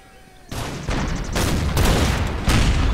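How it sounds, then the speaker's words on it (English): Artillery fire in the strategy game Empire: Total War, a rapid series of loud booming volleys and cracking shots layered into a dense, sustained battle roar. "Why are my artillery finishing him off?"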